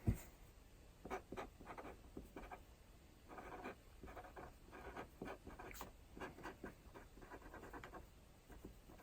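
An Arteza Inkonic pen scratches across paper with moderately heavy pressure, giving soft, close, irregular strokes with brief pauses in a quiet room.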